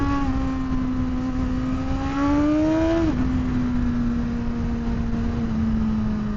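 2026 Suzuki GSX-R1000R sport motorcycle held high in the revs in first gear under light throttle. It gives a steady, buzzing engine whine that climbs slightly, then drops abruptly and settles lower.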